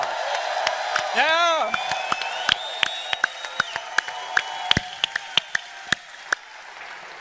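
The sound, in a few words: audience round of applause and cheering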